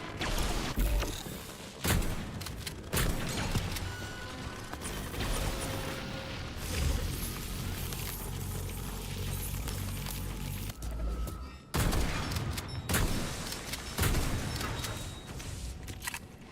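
Gunfire in the video game Atomic Heart, with loud dense bursts and sharp shots repeating over about sixteen seconds amid mechanical combat noise, no one talking.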